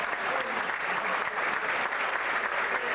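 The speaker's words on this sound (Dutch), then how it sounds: "Nog een keer een goed applaus voor Wout." A hall audience at a local event claps for a medal-wearing honoree named Wout, dense and even applause filling the whole moment, fairly loud and close, with no voice over it.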